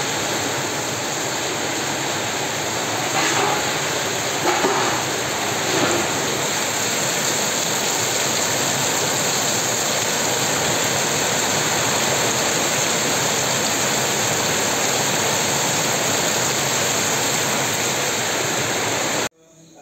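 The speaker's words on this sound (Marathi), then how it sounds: "खूप पडत होता पाऊस दुपारी. तुम्ही बघू शकता." Heavy afternoon rain pours down as a dense, continuous roar of steady hiss, loud and close throughout, ending abruptly.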